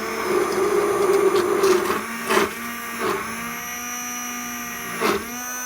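A Chefman two-speed immersion hand blender runs on its low setting, a steady motor whine with a rattly, churning texture at first, then a smoother hum broken by a few brief bumps as the blade shifts in the container.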